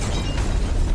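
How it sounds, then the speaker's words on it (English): A loud, dense blast roars in an audio drama, a rumbling explosion effect that fills the whole second with no voices. "letting the explosion propel them forward"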